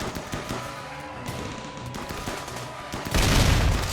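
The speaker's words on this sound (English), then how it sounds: "I'm so glad I found those mini turrets." Mini turrets in the Rimworld colony game firing in a dense, rapid stream of shots over a steady game backdrop, ending in a louder burst of noise.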